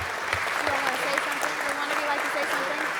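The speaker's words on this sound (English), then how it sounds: "Another round of applause for the Milliken Middle School Science Academy." An audience at a city council meeting applauding the Milliken Middle School Science Academy, an even, sustained patter of clapping with a voice faintly beneath it.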